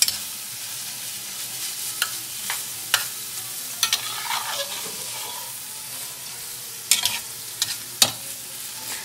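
Broccoli and Italian sausage are stirred together in an All-Clad 5-quart pan, with a steady sizzle under sharp scraping clinks of a utensil against the metal at irregular intervals, and no talking.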